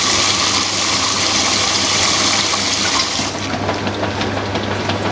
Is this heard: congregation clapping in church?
no